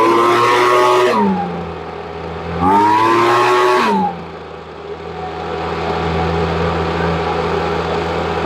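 Ryobi small engine running after an idle adjustment, revving up twice in short rising bursts then dropping back to a steady, close buzzing idle.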